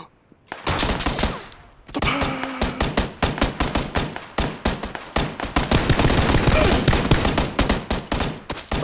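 Dense automatic gunfire in the video game PUBG, with rapid loud bursts and sharp single shots packed close together for several seconds with almost no pause.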